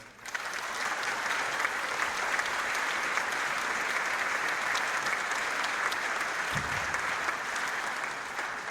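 Sustained applause from an audience welcoming the Consul General of the Mexican Consulate at a Michoacan-to-Michigan event, a steady dense wash of clapping lasting throughout at even loudness, with no talk over it.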